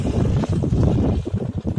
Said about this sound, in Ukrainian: Дуже вітра в нас вже третій день вітер.